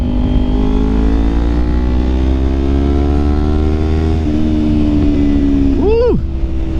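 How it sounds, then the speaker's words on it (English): A motorcycle fitted with a Leo Vince exhaust revs up, its engine note climbing steadily and loud and close, then spiking in a sharp final blip before dropping away. "We got the Leo Vince exhaust on here sounding superfluous."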